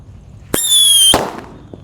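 A blue Happy Power 3 firecracker lit outdoors gives a loud, shrill whistling whoosh for about half a second, then cuts off and leaves a fading crackle.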